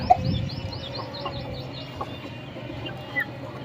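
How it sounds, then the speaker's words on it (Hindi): Chickens cluck in short, repeated bursts at a moderate distance over a faint background hum, with a few sharper calls standing out. "और ये मुर्गियाँ अपनी हो गई बड़ी।"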